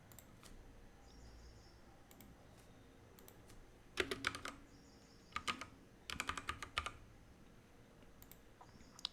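A computer keyboard is typed on in short clustered bursts of quick clicks, faint and close, separated by pauses with quiet background noise.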